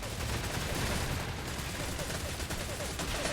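Rapid hip-fired bursts from a SIG SG 550 assault rifle in a video game, a dense, continuous rattle of close gunfire lasting a few seconds with no talking.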